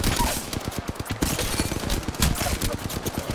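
Sustained automatic weapon fire in the Apex Legends shooter game, a fast rhythmic stream of sharp shots with a few louder bangs mixed in, loud and continuous throughout.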